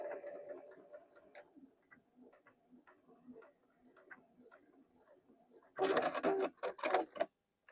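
A sewing machine stitches a small mini tote key chain, giving soft rapid ticking bursts through most of the stretch before a louder, denser burst of stitching near the end.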